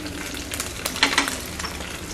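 Goat blood sautés lightly in oil for a pepper fry, a short burst of bright crackling sizzle with a few scrapes of a ladle stirring, moderately close.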